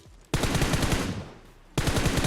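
Automatic rifle fire in the mobile game PUBG Mobile: two loud, close bursts of rapid shots, the first sustained for over a second, the second starting after a brief pause.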